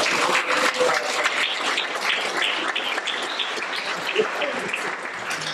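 A theatre audience applauding steadily at a live arts centre performance, dense continuous clapping throughout, loud and near, with faint voices mixed in.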